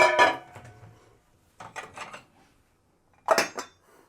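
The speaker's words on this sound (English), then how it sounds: "Now I'm going to put it in a bowl and I'm going to cover it with a dish." A dish clatters against a bowl as a bowl of soft poori dough is covered in a home kitchen, three short ceramic knocks and rattles spaced apart with quiet gaps between them.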